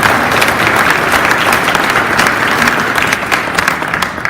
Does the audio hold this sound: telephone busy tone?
no